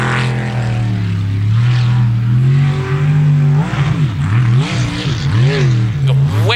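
Unlimited class racing boat engine roaring loudly and continuously during an ASB race, the pitch sweeping up and down in repeated surges as the throttle rises and falls, with faint commentary underneath.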